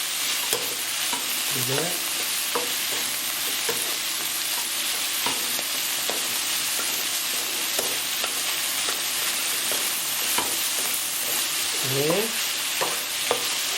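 Oyster mushrooms with young ginger being stir-fried in a pan, a loud continuous sizzle with regular scraping and tossing strokes of a spatula; someone speaks briefly over the cooking.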